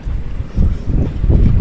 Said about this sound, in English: It's a bit windy here.